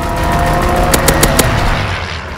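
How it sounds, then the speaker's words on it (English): Fighter plane strafing a target in a World War II video game: a quick burst of about four sharp gunshots over a loud, rumbling engine drone, with no voices. "Fighter pilot inbound. Strafing the target."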